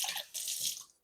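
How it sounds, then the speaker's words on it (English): A short splash of water poured into milk in a kitchen bowl while making Yorkshire pudding batter, a bright pouring burst in two quick surges that trails off within about a second. "So to the milk, first of all, we want to add a splash of water."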